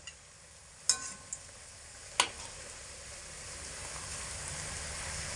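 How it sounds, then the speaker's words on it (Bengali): Flour and potato snacks fry in hot oil with a soft, steady bubbling sizzle that slowly builds, marked by two or three brief sharp knocks early on; nothing else is heard. "একে একে নাস্তা তেলের মধ্যে ছেড়ে দিতে হবে"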